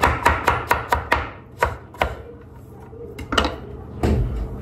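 A knife chops food in a home kitchen: a quick run of about six sharp, close chops, then a pause and a few scattered single cuts.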